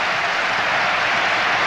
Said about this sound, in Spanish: igelli, el número 20 del Atlético de Madrid, que se lleva también esta ovación de gala.